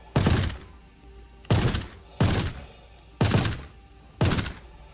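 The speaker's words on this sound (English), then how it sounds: "the FS9 is basically a sniper rifle. If you do small controlled shots like this, you can get them from long distance" FS9 rifle in Star Citizen firing five loud, separate shots in controlled single bursts, each a sharp crack with a booming decay, spaced unevenly about a second apart.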